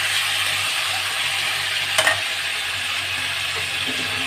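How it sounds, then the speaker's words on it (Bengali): Pieces of fried pointed gourd go into a hot wok of oil, giving a steady, close sizzle with a brief clatter of stirring midway. "এবার আমি ভেজে রাখা পটলগুলোকে দিয়ে দিলাম"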